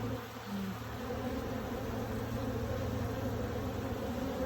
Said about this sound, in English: we've got loads of bees buzzing around.